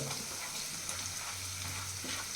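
Onion and tomato with green chili frying in a pan, a soft, continuous sizzle with faint stirring, no voices.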